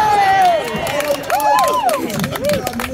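Crowd cheering and clapping at a union rally for rail union leader Mick Lynch, a loud continuous swell of voices and applause with whoops rising over the babble.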